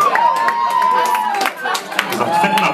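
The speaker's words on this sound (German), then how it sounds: "Wieder bitte begrüßt mit einem fetten Applaus" Audience clapping at a live benefit concert, scattered claps over a sustained cheer and a voice talking through it.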